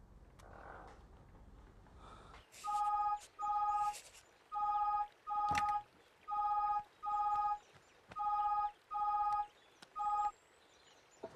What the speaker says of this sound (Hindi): और उस भोसड़ी वाले दुबे को फोन लगाओ, पता तो चले क्या चल रहा है।